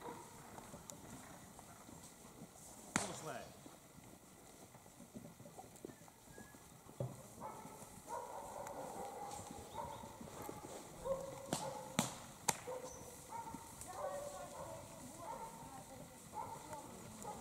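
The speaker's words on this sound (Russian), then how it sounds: "А вот теперь гонят коров основных." Hooves clop and shuffle on the ground as a herd of cows is driven to pasture in the morning, with scattered sharper knocks, while a voice talks over the outdoor bustle.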